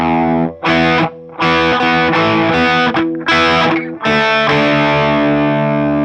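A thick, heavily distorted electric guitar riff played in chunky bursts with brief gaps, loud and close, no voices.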